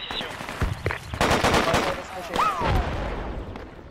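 Rapid gunfire in the military shooter Project Reality, bursts of sharp shots and cracks clustered in the middle, fairly loud with a whistling tone passing through as players talk over it.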